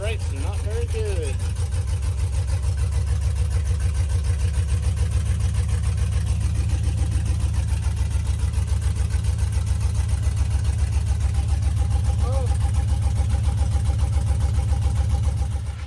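An LS-swapped Chevrolet G30 van fitted with a custom stainless exhaust idles close by, a steady deep rumble that runs unbroken throughout with faint pulsing.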